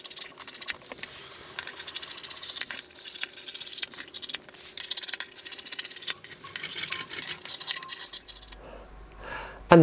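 Scissors snipping through taffeta fabric up close, a quiet run of crisp irregular cuts and rustles with brief pauses, ending in a short sharp knock.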